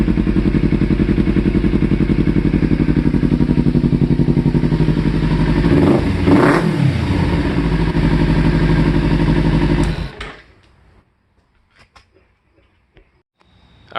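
A Kawasaki Ninja with a Ransoto slip-on exhaust runs loud and close with a steady deep idle pulse that swells briefly around the middle. It cuts off abruptly near the end, leaving near silence with a few small clicks.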